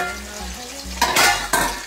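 Hilsa fish frying in a pan, a steady close sizzle with occasional louder crackling bursts and a clink of a utensil against the pan.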